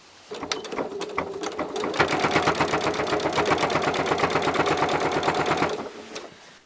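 A sewing machine stitches quilt binding a quarter inch from the quilt's edge, running in a steady, fast, even rattle of needle strokes for about four seconds after a few short starting bursts, then slowing and stopping.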